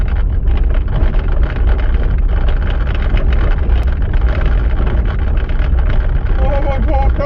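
A car jolting and rattling along a rough, rutted track, giving a loud continuous rumble with wind buffeting the microphone and constant bumping, with no pauses.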